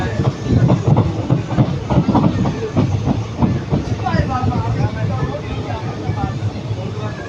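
A passenger train rolls along the rails near Eriyodu railway station in Tamil Nadu, India, with a rhythmic clickety-clack and steady rumble, a hiss rising toward the end; a voice is heard over it.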